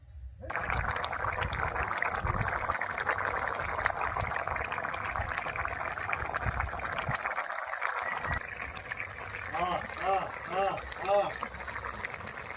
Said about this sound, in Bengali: এবার জলটা কড়ার মধ্যে দিয়ে দেব